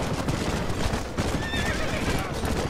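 A horse in the video game Red Dead Redemption whinnies amid galloping hoof clops, with game noise including gunfire in the background, close and fairly loud over the short stretch.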